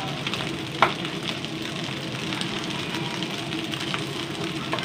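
Rice with scrambled egg fries in a pan with a steady, moderate sizzle and a soft clink of stirring, with no one speaking.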